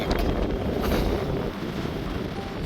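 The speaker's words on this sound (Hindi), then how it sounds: "देखिए इतनी तेज़ हवाएं लग रही हैं" Strong wind over the Ganges river at Rishikesh roars and buffets the microphone in a constant, loud rush, with no one speaking.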